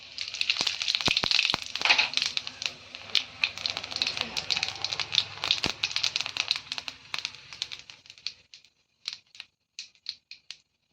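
Whole cumin seeds crackle in hot oil in a wok that already holds bay leaves, the start of a chicken curry. Dense spattering pops gradually thin out to sparse, isolated crackles.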